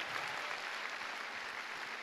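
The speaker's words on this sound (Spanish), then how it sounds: "Dale fuerte ese aplauso, Cristo de la gloria." A church congregation applauds during a Sunday morning service, a faint, steady wash of clapping from a distance that holds evenly for a couple of seconds.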